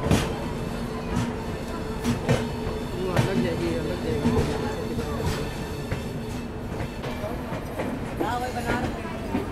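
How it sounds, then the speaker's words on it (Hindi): The Ajmer Sealdah Express rolls past in a race alongside the Farakka Express, with loud steady rumbling and rhythmic clickety-clack of wheels over the rails, close by and continuous, with voices talking over it. "अजमेर सियालदा एक्सप्रेस हो सकता है दोनों की रेस हो भाई।"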